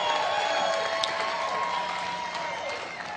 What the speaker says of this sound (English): T. Harv Eker, let's give him a round of applause